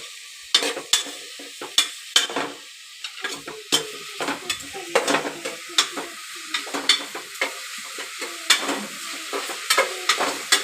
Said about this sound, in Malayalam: നന്നായിട്ട് തന്നെ കുറച്ച് നേരം ബ്രൗൺ കളർ ആകുന്നത് വരെ ഇളക്കി കൊടുക്കണം